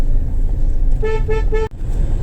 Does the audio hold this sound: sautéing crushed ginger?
no